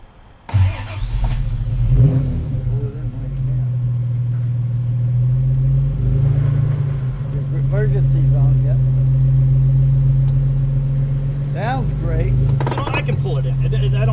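A Jaguar XK 140 MC car engine starts, then settles into a steady loud idle with a few brief revs, close by and continuous, while people talk over it.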